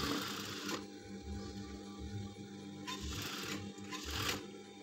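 A sewing machine stitching a front button placket on fabric, a soft steady mechanical whir running throughout, with a few short louder surges as the stitching speeds up, heard close and fairly quiet.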